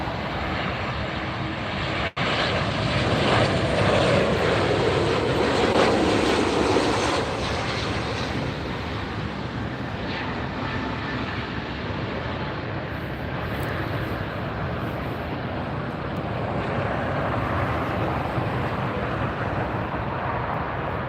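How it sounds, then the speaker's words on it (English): Aircraft engines roar steadily at LAX airport as one airplane rolls out for departure and another comes in, a loud continuous jet rumble swelling briefly early on and holding strong throughout, with no talk. "That one's rolling out, and this one's coming in."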